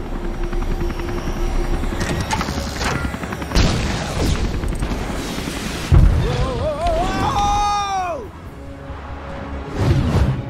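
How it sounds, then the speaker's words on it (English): A LEGO Marvel Super Heroes ship attacks with whooshing fly-bys, blasts and sweeping laser-like zaps over a busy game soundtrack, while a character speaks over the action. "I'm reading an incoming ship. Watch out! It's about to open fire!"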